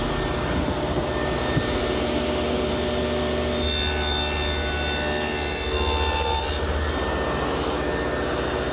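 Table saw fitted with a dado head cutting grooves along the edges of plywood panels for a walnut table, a steady loud whine with a roughened cutting tone from start to finish, with no talking.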